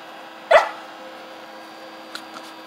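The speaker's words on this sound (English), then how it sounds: "don't bark" A puppy barks once, sharply and close by, outdoors where it is chained up near bubbles. The bark is followed by a couple of faint small yips. There is no talking.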